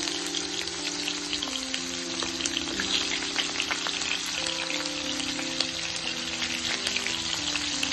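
Chopped onion and green chilies fry in hot oil as an egg masala is prepared, giving a steady, dense sizzle with crackling pops throughout and no talking.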